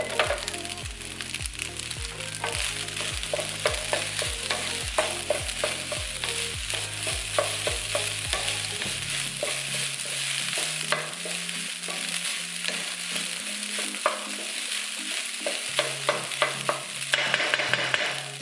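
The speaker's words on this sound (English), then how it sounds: "Now that you've sauteed your rice," Fried rice with pancetta sautéing in a pan, a steady sizzle under frequent rhythmic scraping and tossing clatters of a utensil against the pan, close and busy, with no voices.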